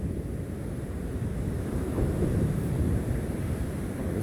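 Steady, broad rumble of surf rolling onto a beach, with wind buffeting the microphone throughout; the wash swells slightly in the middle and holds at a constant loud level with no voices.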